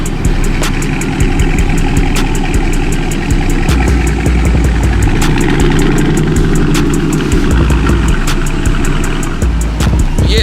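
A 2021 Dodge Challenger Scat Pack with mid-muffler and resonator delete and 5-inch exhaust tips idles close by, a loud, deep, steady exhaust rumble with a slight lope, holding level across the whole stretch.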